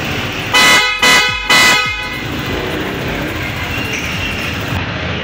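Three loud, short blasts from a PIAA horn on a Honda ADV150 scooter in quick succession, then a steady engine-like rumble carries on alone.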